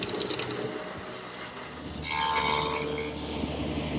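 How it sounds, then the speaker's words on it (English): A single-purpose mortising machine cuts mortises in wooden frame parts for mortise and tenon joinery, a loud mechanical grinding and chattering that rises sharply midway and runs steadily, with no talk. "The mortises are made with a single-purpose machine just to do that."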